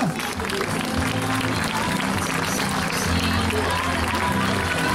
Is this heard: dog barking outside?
no